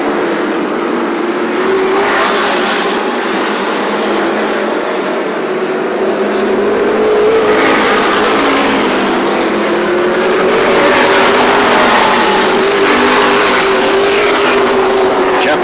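Modifieds, late models, street stocks and front-wheel-drive race cars lapping the Kalamazoo Speedway oval, a dense continuous roar of many engines rising and falling through turns three and four, loud throughout and mixed with commentary.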